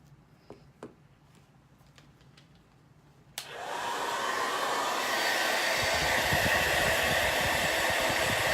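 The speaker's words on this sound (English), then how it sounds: "We're just blow drying it so we can put on the second layer" A hair dryer switches on abruptly after a few faint knocks and blows with a loud, steady rushing hiss, drying a coat of white paint before a second layer goes on.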